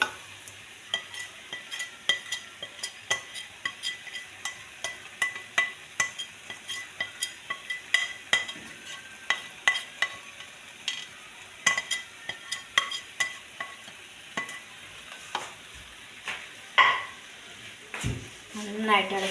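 Fried chicken being stirred into an onion and tomato curry in a pan, with frequent spoon scrapes and light clinks in a steady rhythm over a soft background sizzle.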